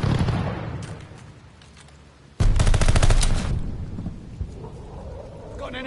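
A hostile aircraft's strafing run in a video game erupts as a sudden loud burst of heavy gunfire and explosive rumble, following quieter battlefield ambience and fading into a lingering roar.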